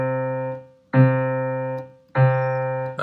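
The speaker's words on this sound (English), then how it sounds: "So if you play middle C and you play the octave down, it would sound like this." A piano plays middle C together with the C an octave below, the pair struck three times in turn. Each strike rings out clearly and slowly decays, heard alone.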